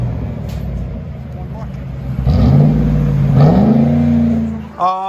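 A Lincoln Mark LT pickup with a 5.4L Triton V8 and dual Flowmaster Super 10 exhaust idles with a deep rumble, then revs up loudly twice and settles, with a brief voice near the end.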